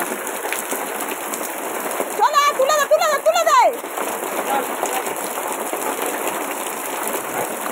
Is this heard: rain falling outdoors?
yes